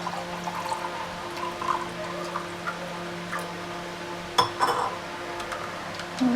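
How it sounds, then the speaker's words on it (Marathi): Cold water is poured softly into a glass of raw mango panha, with small glassy clinks and drips over a faint steady background. "त्याच्यामध्ये थंड पाणी ओतायचं"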